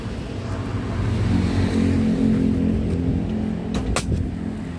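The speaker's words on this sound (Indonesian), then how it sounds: "Kita nyalakan mesinnya dulu ya." A 2005 Grand Touring car, a late-2006 model, with its engine running as a steady low rumble that swells slightly mid-way, close and alone, with a brief sharp knock near the end.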